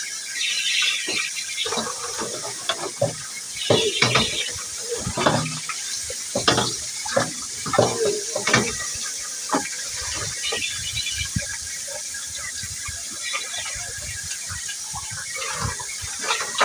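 Water pours and splashes in bursts while dishes are washed up at a rural hut, with intermittent gushes, clinks and sloshing over a steady background hiss, no talking.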